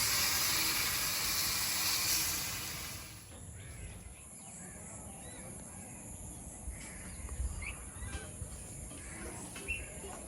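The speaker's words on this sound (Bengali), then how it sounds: "ভেন্ডির তরকারিটা ফুটছে" Okra curry boils in a pot during village cooking, a loud rushing hiss for about three seconds that drops to a quieter simmer with faint scattered pops.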